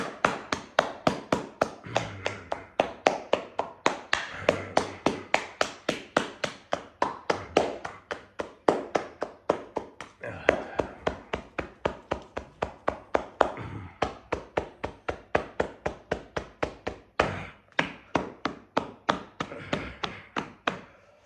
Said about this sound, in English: do some clapping